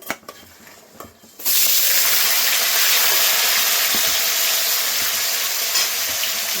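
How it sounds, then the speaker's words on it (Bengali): Salted potatoes dropped into hot oil in a pan, with a couple of quiet clinks first and then a sudden loud, continuous sizzle and hiss that stays steady and close, with no voices. "তেল দিয়ে দিয়েছি তেল গরম হয়ে গেছে আলুগুলো ভেজে নেব"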